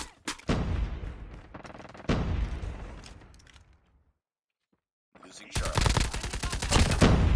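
Gunfire from COD Mobile gameplay with an LMG: dense bursts of rapid shots and blasts, loud and close, broken by a near-silent pause before heavy firing resumes.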